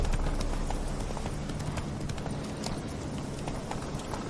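Horse hooves clip-clop steadily during riding in The Witcher 3, a continuous close rhythm of hoofbeats over a dense ambient game background with no voices.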